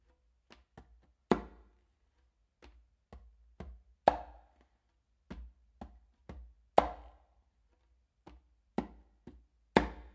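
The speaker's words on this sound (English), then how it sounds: "a soft close slap with my dominant hand on the conga" Soft hand strokes on a conga drum: scattered light fingertip taps and ghost notes punctuated by sharper close slaps, sparse and irregular, quiet and alone.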